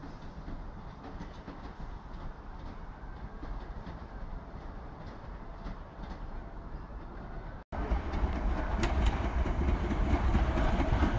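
South West Trains Class 456 electric multiple unit at Guildford station, a steady rumbling roll with faint rail clatter that grows louder and closer after a brief break, no voices.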